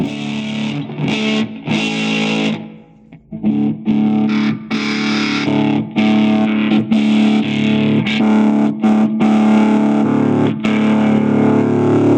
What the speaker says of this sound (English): How beautiful is that tweed sound?